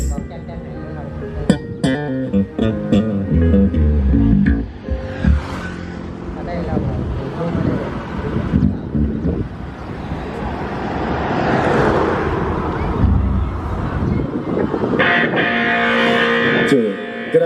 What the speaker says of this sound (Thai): นี่คือเสียงจากรถแห่นะครับ